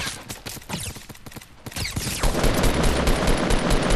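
Automatic gunfire in the video game Fortnite rattles out in rapid bursts, sparse sharp shots at first then building into a dense, loud, sustained barrage.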